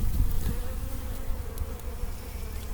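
Honey bees buzz steadily from a hive built inside a water meter, a close, continuous insect drone with no talking.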